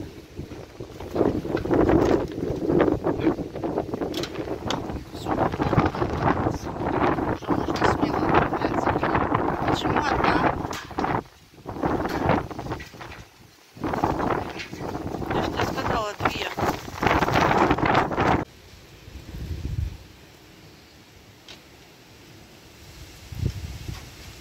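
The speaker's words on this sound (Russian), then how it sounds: "Ветер такой, дверь, калитку прям выносит." Strong wind roars and buffets the microphone in heavy gusts for most of the stretch, briefly dropping before surging again and then easing off near the end.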